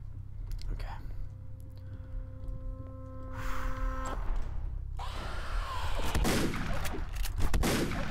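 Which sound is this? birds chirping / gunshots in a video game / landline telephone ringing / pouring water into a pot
gunshots in a video game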